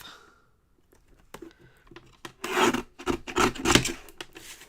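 Craft paper is cut to size with a few soft scraping, rasping strokes, close and moderately loud, coming after a near-silent start, with no voices.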